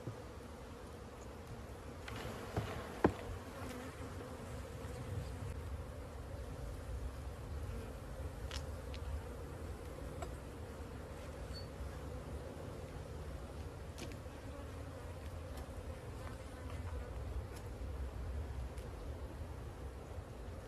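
Honey bees swarm and buzz steadily around an opened hive during a comb cut-out, a dense, continuous hum that holds at an even loudness throughout, with a few brief knocks near the start and no voices.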